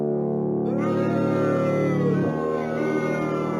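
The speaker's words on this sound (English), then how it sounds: "Without the destructor, it would sound like this." Feedback guitar from the Flex plugin played clean without Destructor distortion, a thick sustained droning tone with wavering upper partials and a bend near the middle.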